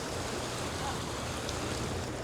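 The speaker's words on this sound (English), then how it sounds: "It's the water sucking in that way." A draining river sucking water downstream makes a constant broadband rushing wash, steady and enveloping with no distinct strokes or breaks, fairly quiet and uninterrupted.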